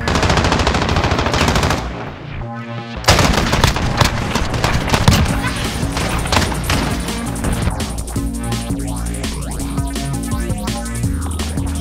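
An AK-47 fires in a Modern Warfare search-and-destroy match: close, loud automatic bursts crackle almost without a break, over a steady game soundtrack, with a short lull about two seconds in.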